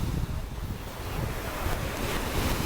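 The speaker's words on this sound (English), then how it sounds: "And I hope you guys enjoyed a lot of this sound of the waves." Ocean waves wash steadily onto a Hawaii beach, a continuous broadband roar of surf with wind rumble on the microphone, no voices.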